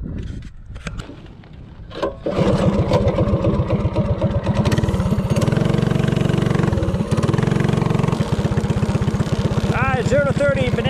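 A DuroMax 208cc engine with a stage 1 kit on a Bonanza minibike idles briefly, then roars loudly under hard acceleration, with a steady buzzing drone and later rising pitch sweeps near the end.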